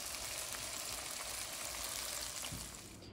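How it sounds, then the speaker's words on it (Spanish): Tomato, onion and garlic frying in a pan for an iguana stew, a steady close crackling sizzle that holds evenly throughout with no talk. "ya tenemos hirviendo, friendo, perdón, el tomate, la cebolla y el ajo"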